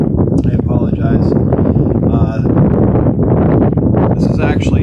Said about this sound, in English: It's a little windy out here, so if you catch some wind, I apologize.